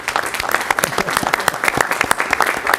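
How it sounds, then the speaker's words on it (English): A modest group at a city commission meeting claps for a staff member, with distinct individual hand claps audible in a loose, uneven patter rather than a dense roar, fairly close and alone. "we can give her a round of applause"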